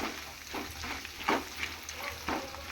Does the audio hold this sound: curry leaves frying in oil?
yes